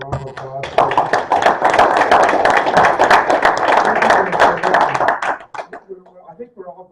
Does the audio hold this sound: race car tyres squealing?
no